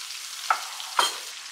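Chopped ridge gourd, pumpkin and drumstick vegetables with cumin and turmeric sizzle steadily in hot oil in a pan, with two quick stirring scrapes standing out against the constant frying hiss.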